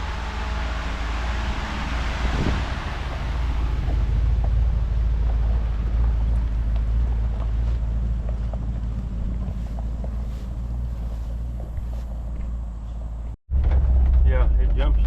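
Ford truck with a C6 automatic transmission driving along: a constant low rumble with heavy wind buffeting, a brief cut near the end, and a voice talking over it.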